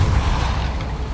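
The Depulso force spell in the game Hogwarts Legacy lands as a short, loud, deep boom with a rumbling tail that fades only slightly over about a second.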